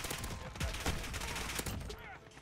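Gunfire from SMGs and shotguns in a first-person shooter match, a dense stream of sharp shots with a few heavy bangs standing out, played loud and close under a player's voice.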